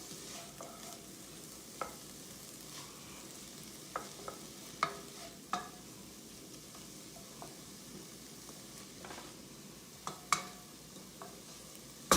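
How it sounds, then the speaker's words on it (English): Onions fry in a pan for French Canadian creton, with a soft steady sizzle and intermittent scrapes and clicks from a stirring utensil, close and fairly quiet, no voices. "I say mix it really well at the beginning here because you don't want it to burn."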